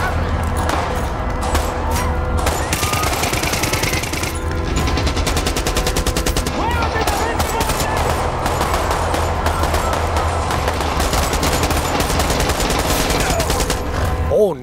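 Dense, continuous gunfire from Far Cry 6 gameplay, rapid overlapping bursts and fusillades sustained loud throughout, with voices faintly under the shooting.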